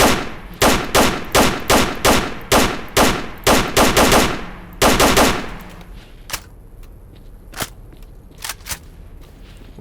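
Video game gunfire from Call of Chernobyl: about a dozen loud, evenly spaced shots crack close up in quick succession, then stop, leaving softer scattered thuds and footsteps.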